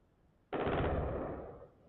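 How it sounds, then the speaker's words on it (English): Gunfire in Tehran during a live broadcast: a sudden loud burst that starts abruptly and holds steady for about a second before tapering off, with no talk over it. "Gunshots in Tehran."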